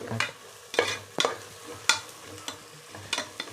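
Onions sautéing in oil in a pan for tomato rice, a spoon scraping and stirring in repeated sharp strokes over a soft background sizzle, close by.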